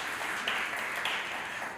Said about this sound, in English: So once again, let's give Mrs. Fleming Lake a round of applause.